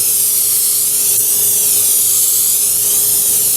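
A steady, continuous hiss of spray adhesive from an aerosol can, close and fairly loud, holding even for several seconds with no talking.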